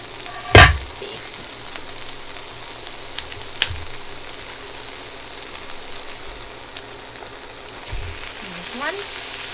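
Beef strips sizzling as they go into a hot skillet with softened vegetables for a keto Philly cheese steak, a sharp burst of frying at the start settling into a steady crackle with a few stirring clatters, under talk.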